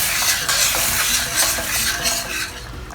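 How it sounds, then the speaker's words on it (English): Oyster sauce, tomato ketchup and dark soy sauce are stirred in a hot pan for chilli tofu prawns, a steady scraping and sizzling that runs continuously at close range with no talk. "Lightly stir them around."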